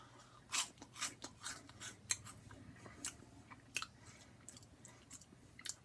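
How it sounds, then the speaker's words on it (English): Cheetos Bag of Bones corn puff snacks crunched and chewed up close, a run of quiet dry crisp bites and munches in an otherwise still room. "let's just eat one and see what it's like"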